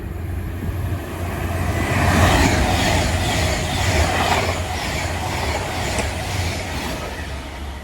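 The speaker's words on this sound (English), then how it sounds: "there goes 350-243 and 350-373 to Crewe" Two Class 350 electric multiple units pass through a station on the line to Crewe, a steady loud rumble of wheels and rail noise swelling and fading over several seconds with no voices.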